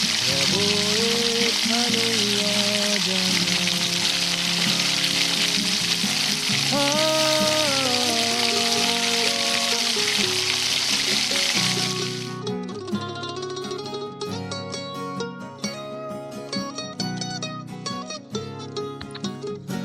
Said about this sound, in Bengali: তেল গরম হয়ে গেলে সেই তেলে কুচনো পেঁয়াজগুলো দিয়ে লাল লাল করে ভেজে নেব।